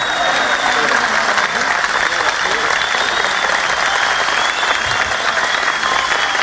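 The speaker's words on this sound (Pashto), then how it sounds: "ښې ډېرې چکچکې ښې ټول" An audience at a Pashto poetry gathering claps in a dense, continuous burst that stays loud and even for several seconds.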